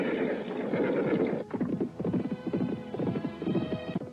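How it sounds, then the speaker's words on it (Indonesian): Horses galloping along a narrow path, rapid rhythmic hoofbeats with a neigh at the start, loud and fairly close, with no talk over them. "Kuda yang ditunggangi Restu Singgi dan Nilam Cahya saling berkejaran di jalan setapak"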